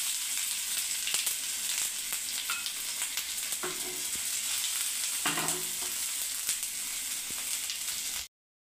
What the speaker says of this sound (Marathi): जिरं घालायचं, जिरं छान असं तडकू द्यायचं